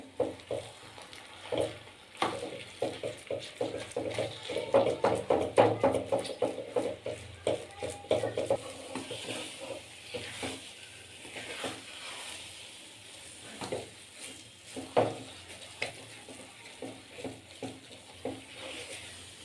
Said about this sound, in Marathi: छान व्यवस्थित मिक्स करून घ्यायचं आहे ते भात आणि गुळाचं मिश्रण